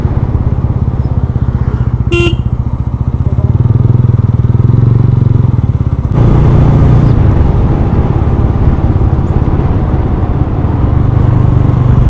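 A TVS Ronin 225cc motorcycle rides along a road, its engine droning steadily and loudly with a low rumble that rises as the bike accelerates, then carries on continuously, close up, with a brief high tone near the start.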